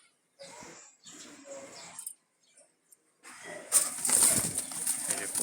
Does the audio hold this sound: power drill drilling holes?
no